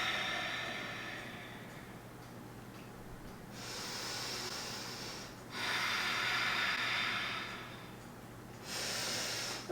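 Slow, airy breaths rush close to the microphone during a beginner yoga flow, three long hissing exhales separated by quiet pauses, with no talking.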